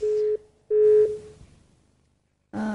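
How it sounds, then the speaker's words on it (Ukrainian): A busy tone on a dropped phone line during a live broadcast call-in, two loud steady beeps separated by a short gap, then silence before a voice begins. "На жаль, зірвався дзвіночок"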